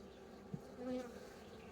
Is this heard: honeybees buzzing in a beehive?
yes